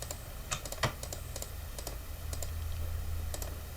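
Computer keyboard typing while working in Blender 2.8: quick irregular clicking keystrokes, close and fairly quiet, over a low steady background hum.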